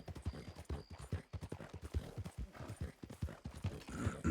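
Horse hooves clip-clop in a brisk, regular trotting rhythm in a video game, close and continuous throughout.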